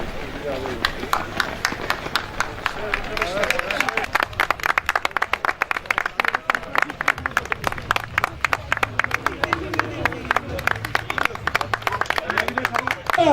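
Spectators applauding runners at the finish of a Republic Day road race in Zeytinburnu, Istanbul. Rapid dense hand clapping builds and runs steadily throughout, with a voice talking over it on a loudspeaker.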